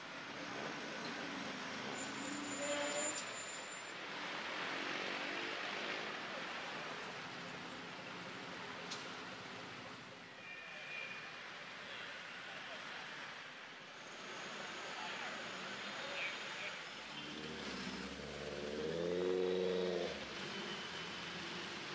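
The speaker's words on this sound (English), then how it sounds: "A lot of traffic heading over the Damrong Sathit bridge today" Street traffic crosses the Damrong Sathit bridge in Bangkok as a faint, steady wash of road noise, with a vehicle swelling a little nearer toward the end.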